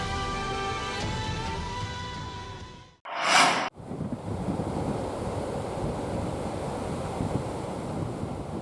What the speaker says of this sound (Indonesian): Hujan deras disertai angin menyebabkan ombak besar dengan ketinggian mencapai 3 meter.